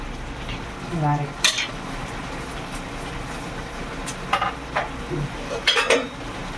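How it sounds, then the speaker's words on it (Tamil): Vermicelli khichdi is stirred in a pan, with intermittent scraping and light clinks of a utensil over a low, faint cooking hiss; the stirring comes in brief bursts, close by, with no clear speech. "சேமியா போட்டு கிண்டியாச்சு"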